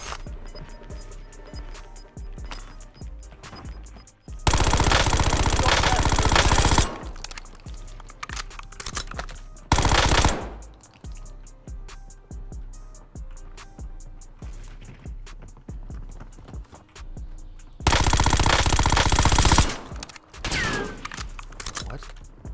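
Machine gun fire in a first-person shooter video game: three loud sustained bursts, the first and last each lasting about two seconds, with a short one between and quieter in-game clicks and sounds in the gaps.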